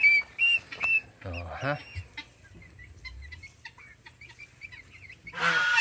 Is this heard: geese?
yes